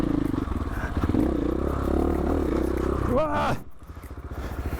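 A light adventure dirt bike engine pulls in first gear up a rough trail climb, a steady mid-loud drone that rises in pitch, then drops away. A rider's voice talks and shouts over it.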